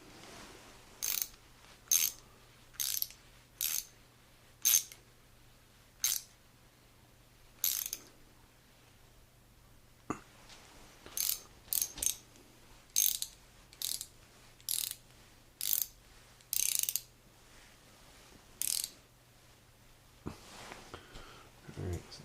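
A ratchet tightens bolts while a droid is being reassembled, close and crisp in binaural sound: short bursts of clicking come in repeated spurts with quiet gaps between them, over a low steady hum.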